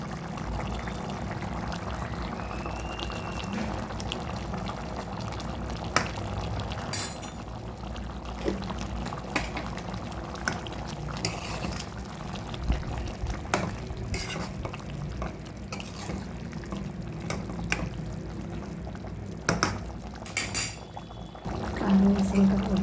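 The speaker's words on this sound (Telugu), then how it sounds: "కారం వేసి ఇంకా ఉడుకుతుంది" Chicken curry seasoned with chili powder simmers in a pan, giving a steady bubbling, gurgling boil with occasional sharper clinks and splashes throughout.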